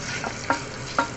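Vermicelli is stirred and mixed in a pan over a soft, continuous sizzle, with two brief scraping strokes close by.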